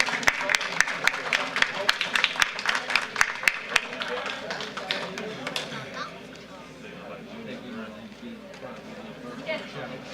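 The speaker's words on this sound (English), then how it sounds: "So let's give Liberty High School a round of applause." Audience clapping for the Liberty High School team at a school board meeting, loud sharp claps for the first few seconds that thin into murmuring crowd chatter and indoor room noise.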